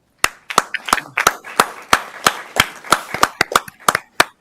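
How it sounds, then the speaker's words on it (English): A small audience at a county commissioners court meeting claps for an award, giving sharp, sparse, irregular hand claps that carry on steadily for several seconds. "let's give a round of applause for that award"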